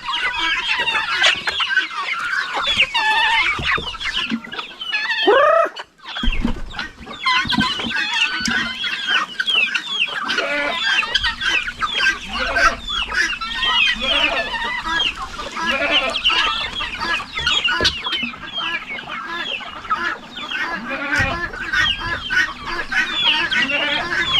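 A crowd of chickens, including chicks, clucking and chattering continuously, close by and loud, with no voices over them.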